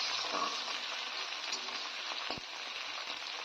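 Tomato and onion fry in a pan for lentil dal, giving a steady, even sizzle close by with a brief stir or clink partway through and no talking.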